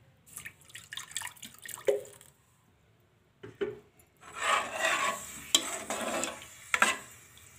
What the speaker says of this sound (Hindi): मैं इसमें तकरीबन 2 गिलास पानी डाल रही हूँ पहले